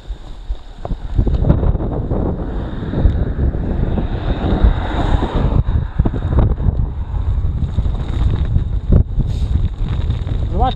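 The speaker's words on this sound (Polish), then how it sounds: "No i wiatrzysko się ruszyło strasznie." Heavy wind buffeting the microphone on a motorcycle ride through Beskid mountain roads in September, a loud rough roaring rumble with gusty surges and bumps, engine drone buried underneath.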